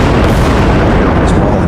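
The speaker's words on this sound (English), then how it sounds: "hit a mine, causing a huge explosion that cuts the rope" A mine blows up in a movie scene, a huge, loud explosion whose dense roaring blast fills the whole moment without letup.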